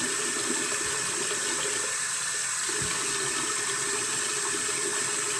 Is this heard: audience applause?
no